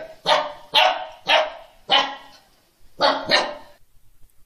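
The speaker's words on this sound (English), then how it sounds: "D for dog." A dog barks sharply six times in a steady rhythm, loud and close, with a short pause before the last pair.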